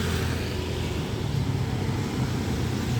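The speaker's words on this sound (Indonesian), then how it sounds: "Yang depan ini bis pariwisata juga. Ini pakai Mercy." A Mercedes tourist bus passes along a road on Java's southern route, heard as a steady, loud, broadband engine and tyre rumble with constant traffic noise and no pause.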